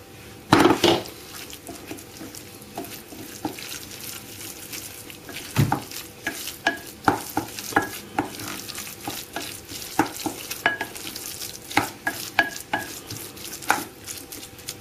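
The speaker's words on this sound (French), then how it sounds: "Et on mélange le tout." A zucchini paste is mixed into meat for a samosa filling. A spoon scrapes and knocks against the pan in irregular strokes, with sharp clinks and clatters, over a low background.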